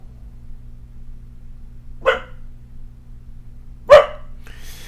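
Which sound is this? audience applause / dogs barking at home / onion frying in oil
dogs barking at home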